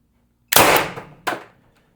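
A single near shot from a Umarex TR50 air gun firing a 2.7 g solid aluminum pellet: a sharp, loud broadband crack that decays, followed about 0.75 seconds later by a second, softer impact-like snap.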